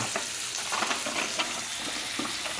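Steak sizzles in a hot pan with butter, a dense continuous crackling fry with small spitting pops throughout, close and fairly quiet, with no voices.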